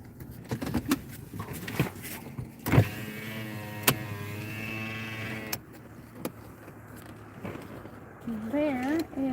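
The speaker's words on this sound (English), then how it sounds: "I'm gonna open my window." A car's electric power window motor hums steadily for a few seconds as the glass moves, and people talk over it inside the vehicle during a drive.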